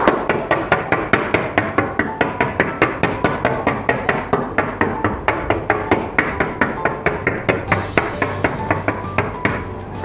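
Rapid, steady tapping as holes are pricked into folded-edge tart pastry for a thin ricotta and courgette tart, dozens of sharp close knocks in an even rhythm with no talking.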